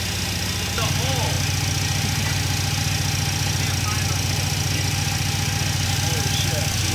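A car engine fitted with fuel injection in place of its carburetor runs at a steady, even idle close by. It picks up slightly in the first second, then holds a constant rhythmic hum, with voices faint underneath.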